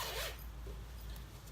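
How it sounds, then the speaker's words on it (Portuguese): A zipper being pulled closed along the opening of a sewn fabric pet bed, one quick close zip up front that trails off into soft handling noise, with no talking. "Pra poder aplicar, fechar o zíper aqui."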